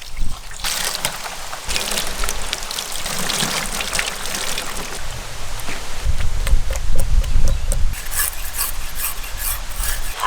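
Raw giant heart meat being washed by hand with poured water in a village outdoor kitchen, a steady wet rubbing, scraping and trickling that runs continuously and grows heavier toward the end, close and fairly loud with no talking.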